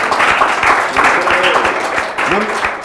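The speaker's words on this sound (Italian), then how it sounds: "Un applauso." Applause from a studio audience on an Italian TV program runs under a voice speaking throughout, the clapping fairly close and moderately loud.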